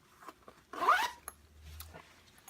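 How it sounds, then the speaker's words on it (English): A zipper on a Vanquest Ibex 30 backpack is pulled closed along the back panel in one quick, close, rasping stroke, followed by faint handling rustles. "Once you remove that, you'll just close this back up and zip it closed."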